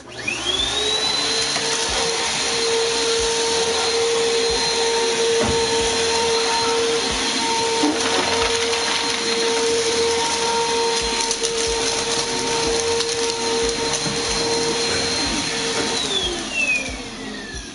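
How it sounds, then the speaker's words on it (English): A vacuum cleaner runs loudly and close by, its motor whining up at the start and winding down at the end, with a continuous roaring hum in between and no talking over it. "Oh, you're vacuuming. Is that what it is?"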